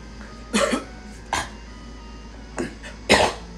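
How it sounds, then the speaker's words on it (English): Four short, close throat-clearing bursts, rough and abrupt, separated by brief quiet pauses. "Trying to clear my throat."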